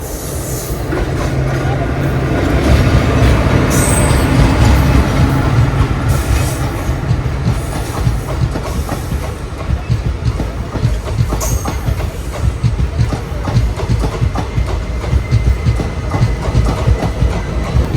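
Thiruvananthapuram–Mangalore Express passenger train rolling past on the rails, a loud continuous rumble with rhythmic clickety-clack of wheels over joints and occasional metallic squeal, sustained close for the whole stretch.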